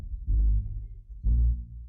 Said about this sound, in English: add a heartbeat to that thing, man.